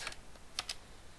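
Several quick keystrokes on a computer keyboard, faint and sparse, come in two small clusters over a second of quiet.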